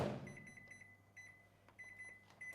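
Microwave oven melting margarine gives a short series of faint high electronic beeps over a low hum, quiet and close, with a soft clunk near the start.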